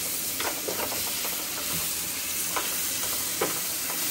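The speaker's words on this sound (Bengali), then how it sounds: "মাশরুমটাকে পুরো ভাজা ভাজা করতে হবে" Mushrooms fry in butter and oil in a pan, a steady soft sizzling hiss broken by occasional light scraping clicks from stirring, with no voices.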